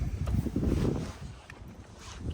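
Strong wind buffets the microphone in low, rumbling gusts that swell and ease over a couple of seconds.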